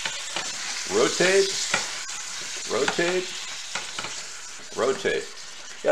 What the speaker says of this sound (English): Give that sizzle.